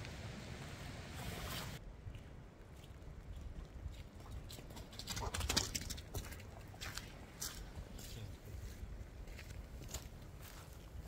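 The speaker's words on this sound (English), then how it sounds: "it's starting to rain a little harder" Rain patters steadily outdoors beside Brush Creek, a dense, even wash of drops with faint splashes and flowing water beneath, holding at a moderate level throughout with no talking.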